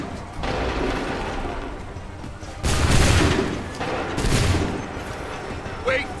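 Musket volleys in an Assassin's Creed III battle at Lexington, two loud broad blasts of massed gunfire a second or so apart, rolling and crackling over a busy battle din.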